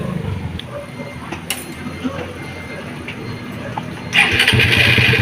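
A Suzuki Raider 150 motorcycle engine fitted with a new Bendix starter gear starts up after a brief low crank, jumping into a loud steady idle near the end of the clip.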